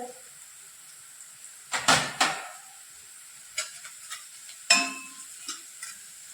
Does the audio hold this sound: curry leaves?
yes